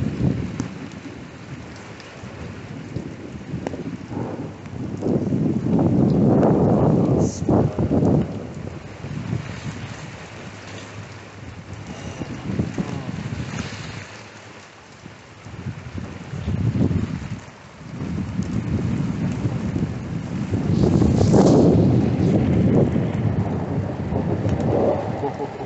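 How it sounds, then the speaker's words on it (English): Heavy rain falls steadily throughout a thunderstorm, with deep rumbles of thunder swelling and fading over the constant downpour. "when the rain gets this bad, it's a good sign"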